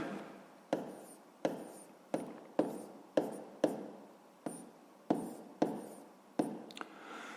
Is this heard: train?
no